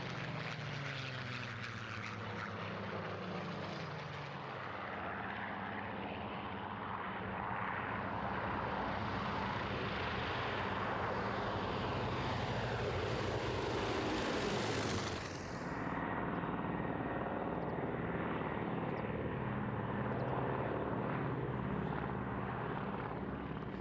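Vintage propeller aircraft take off at the Duxford Flying Legends air show, a loud sustained engine roar that builds, sweeps upward in pitch as the planes pass close, then drops and fades into the distance.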